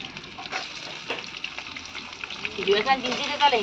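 Chopped onions fry in oil in a village kitchen pot, a close crackling sizzle with stirring scrapes that grows louder toward the end as people talk over it.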